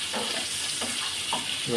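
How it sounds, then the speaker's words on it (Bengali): Fish pieces, for lau chingri, half-fried in hot oil in a kadai, give a steady close sizzle with a few soft stirring scrapes and no talk. "করে নেড়ে ছেড়ে নেবো মাছগুলো ফিফটি পার্সেন্ট ভাজবো"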